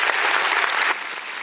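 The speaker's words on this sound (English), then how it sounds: "Round of applause to the guys." A studio crowd claps in a brief, dense burst of applause that holds steady for about a second, then thins abruptly into a softer tail of scattered hand claps.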